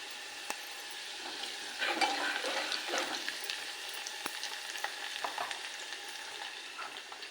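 Curry leaves and salt frying in hot oil in a pan with onions for a homemade red and green rassa curry, a steady crackling sizzle that swells as the leaves go in, with faint stirring scrapes, close and quiet.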